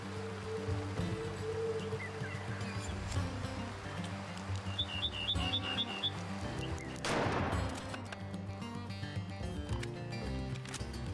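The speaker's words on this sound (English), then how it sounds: "as soon as she stops, we'll take the shot" A single rifle shot in Way of the Hunter cracks out sharply and echoes against a backdrop of birdsong, flowing water and faint ambient music.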